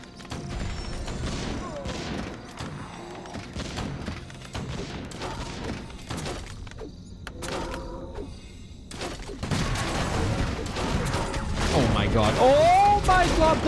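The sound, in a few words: Warcraft III mortar team firing, from a video game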